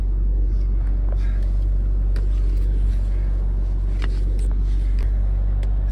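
A 2007 BMW Z4 convertible's engine runs steadily, a deep continuous low rumble close by with faint mechanical ticks on top and no talking.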